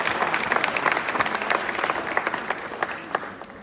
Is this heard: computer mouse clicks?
no